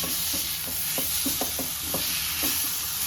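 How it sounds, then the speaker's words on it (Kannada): Chopped onion and hybrid tomato fry in a pan for a Konkani-style chicken curry, a steady close sizzle with soft scraping stirs of a spoon now and then, no voices. "ಈಗ ಟೊಮೆಟೊ ಮೆತ್ತಗಾಗಿದೆ, ಫ್ರೈ ಆಗ್ತಾ ಇದೆ."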